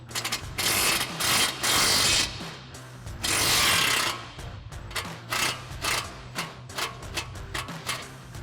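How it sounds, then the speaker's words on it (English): Impact wrench with a 19 mm socket backing a mounting bolt out during a lowering kit install on a 2015-2020 Ford F-150: several loud, rattling hammering bursts, then shorter spins and ratcheting as the bolt comes free. "So ours is going to be a 19 mil wrench and a 19 mil socket on our impact. Go ahead and pull that first bolt out."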